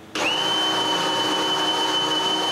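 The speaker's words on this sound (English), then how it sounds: "Then I can mark where to drill the assembly screws and drill them." Power drill boring assembly screw holes into a wooden bookcase, a single sustained whirring run that spins up sharply and holds steady, close and alone.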